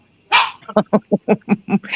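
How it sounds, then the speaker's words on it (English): A small dog barks sharply about seven times in a quick, even rhythm, close and loud after a brief opening yelp, with no talk over it. "Listen to this little dog that thinks he's a Great Dane."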